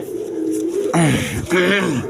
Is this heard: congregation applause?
no